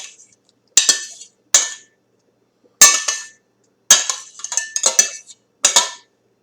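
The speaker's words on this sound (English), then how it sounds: "take it off the burner and drain as much of the grease off as I can without losing any of the hamburger" A pan of browned hamburger, just lifted off the burner for a taco bowl, gives a string of sharp metallic clanks and scrapes as grease is drained, close and loud with brief silent gaps between knocks.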